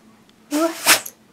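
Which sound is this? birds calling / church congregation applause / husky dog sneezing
husky dog sneezing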